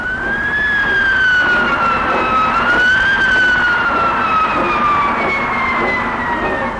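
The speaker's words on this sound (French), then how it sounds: "Ma sirène pousse un cri de joie." A loud Berliet truck siren wails steadily in the desert, its tone sliding slowly up and down, with engine and traffic rumble underneath.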